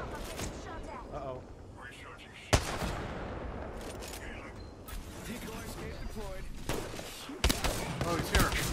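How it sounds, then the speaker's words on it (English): Gunfire in the Apex Legends video game, sharp bursts of shots and rapid firing scattered among players talking, a few loud cracks standing out over the chatter. "Shot fired."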